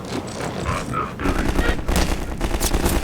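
Gunfire in the video game Half-Life 2: Lost Coast, loud rapid bursts of shots mixed with game noise, growing denser toward the end.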